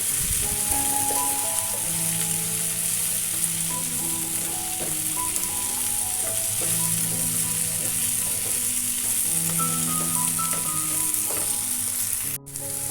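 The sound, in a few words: chopped mushrooms frying in oil in a pan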